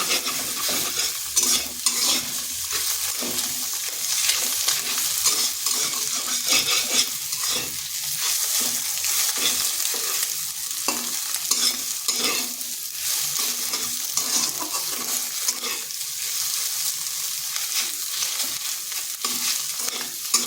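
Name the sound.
egg frying and being stirred in a pan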